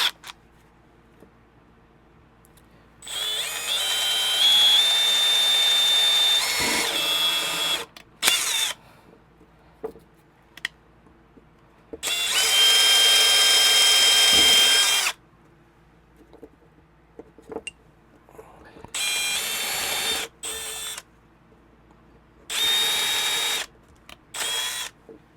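Bursts of a power drill with a 1/8 inch bit whining at high speed, drilling spring holes in a knife, several runs of a few seconds each separated by quiet pauses, close and loud.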